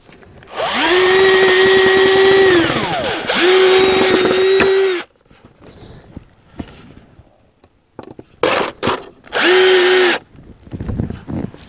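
A power drill whines loudly in two long runs, then stops; after a pause come short bursts and another steady run as it drives a longer screw into a wooden raised bed box.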